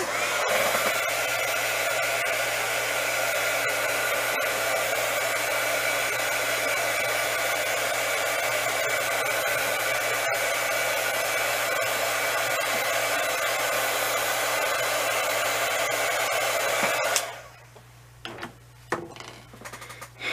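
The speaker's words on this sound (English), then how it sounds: "Okay, and then my heat tool." Heat tool blowing hot air over craft ornaments, a loud, steady whirring blast that runs continuously for a long stretch, then cuts off, leaving faint clicks and handling sounds.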